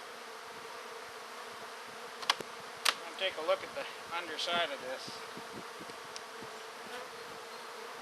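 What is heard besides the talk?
bees buzzing in an opened beehive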